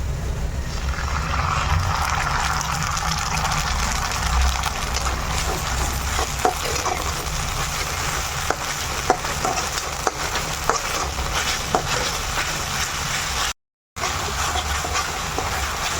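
Paneer 65 sizzles and fries in a pan while being stirred into sauce, with a steady close crackle and occasional clicks of a utensil, no talk.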